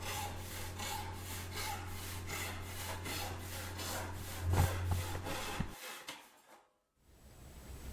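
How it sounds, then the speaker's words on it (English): Hand saw cutting through the end of a wooden board, likely 1/4 inch poplar. Rapid rhythmic back-and-forth rasping strokes run steadily for about six seconds, then stop. "sawing 1/8 of an inch off is no problem"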